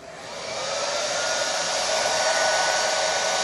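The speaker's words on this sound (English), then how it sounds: "So I'll continue to diffuse for a little bit longer" Hair dryer fitted with a diffuser running on its low setting, a steady close airy whoosh that builds at the start and then holds evenly, with no talking.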